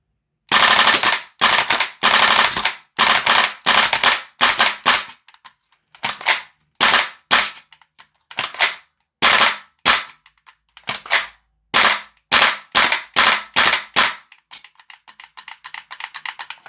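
A GHK G5 hybrid airsoft gun with a low-power nozzle fires on full auto in loud, close, rapid bursts of sharp clicking shots, separated by brief pauses, with a faster, fainter final burst.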